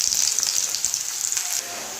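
Onion, garlic and green chili fry in hot oil in a home kitchen. The steady, bright sizzle hisses loudly and continuously, easing slightly near the end. No one speaks.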